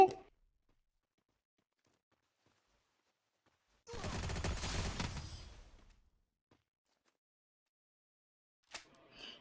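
Burst of gunfire in the Free Fire battle royale game, a single dense volley lasting about two seconds between long silences, with faint brief noises at the start and end.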